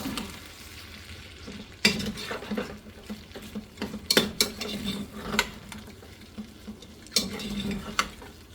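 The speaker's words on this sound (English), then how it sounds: "let me stir this up" Pork fried rice stirred in a pan with a steady sizzle, punctuated by sharp scrapes and clanks of the utensil against the metal at irregular intervals, close and fairly loud.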